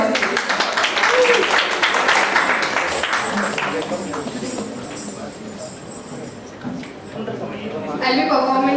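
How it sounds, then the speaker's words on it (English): An audience claps in a big round of applause at an Independence Day celebration, steady and fairly loud, mixed with crowd murmur and a voice speaking over it. "A big round of applause."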